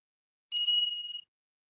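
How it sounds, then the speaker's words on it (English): A bell gives one clear, bright ding in a quiet café. The high, ringing tone holds for under a second before it cuts off into silence. "Let's get the old bell up and a ringing."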